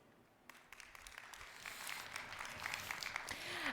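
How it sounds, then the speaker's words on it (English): Audience applause at a conference summit session on kerbside access, a soft patter of claps that swells steadily into fuller, denser clapping over a few seconds, heard from the room. "May I please have a round of applause for Thierry?"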